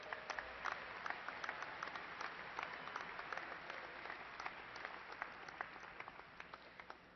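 Sustained applause from a large audience honoring graduates at a university fall commencement ceremony, dense steady clapping throughout with no one speaking.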